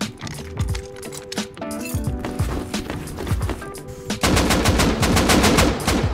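Rapid gunfire in the survival game Rust, sharp repeated shots in quick bursts, close and loud, ending in a dense sustained volley.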